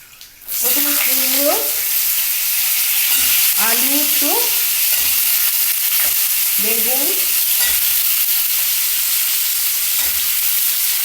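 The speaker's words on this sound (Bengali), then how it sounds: "ব্যাস এইবার আমি সবজিগুলো একে একে দিতে থাকি" Vegetables for a spiced eggplant and fenugreek-greens curry hit hot oil in a frying pan, producing a loud, steady sizzle with stirring, while a faint voice rises in and out underneath.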